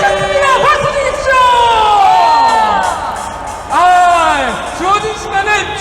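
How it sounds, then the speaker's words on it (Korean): A crowd at a political rally cheers loudly, with whoops and shouts rising and falling over ongoing applause, then a second burst of cheering. "박수 주십시오!"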